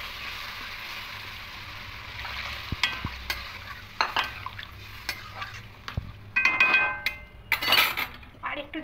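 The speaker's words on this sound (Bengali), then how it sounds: "এবার এখানে ভিজে রাখা আলু পটলগুলো দিয়ে দেবো, সব মশলা একসঙ্গে মিশিয়ে নেব" Potatoes and pointed gourd stirred with spices in a pan, a soft sizzle underneath with scattered spoon scrapes and metallic clinks against the pan, growing busier and louder toward the end.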